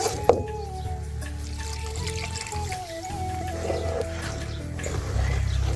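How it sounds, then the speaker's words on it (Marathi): Water poured into a cooking pot, a short trickling pour with a rising tone as the vessel fills, fairly close and mostly alone. "आता वाटलं तर थोडं पाणी आहे ते टाकून घेऊ"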